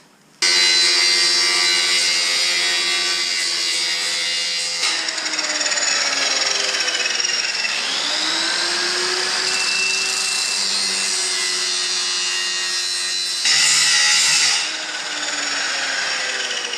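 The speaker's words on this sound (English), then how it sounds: "Angle grinder's now plugged in and ready to go" An angle grinder whines continuously at close range, its pitch sagging and recovering as it cuts through a metal fence post, with a brief louder burst near the end.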